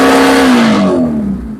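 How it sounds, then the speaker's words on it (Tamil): A car engine revs up with a rising then falling tone, loud and close, tapering as the revs drop, with no talking over it. "இன்ஜின் சவுண்டை பார்த்தாலும் தெரியும்"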